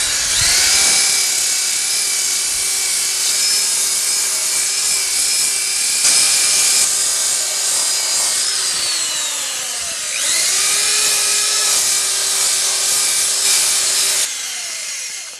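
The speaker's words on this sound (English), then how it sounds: "I'm going to take my power sander over those areas before I rotate the bowl to sand" A power sander with a disc grinds across a wooden bowl during bowl turning, a loud steady whine with pitch shifts and short dips as the disc lifts and presses back onto the wood.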